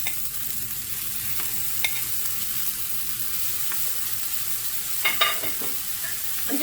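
Carrot dogs sizzle steadily on a griddle pan, a constant close frying hiss with a few brief crackles and pops near the end, no talking.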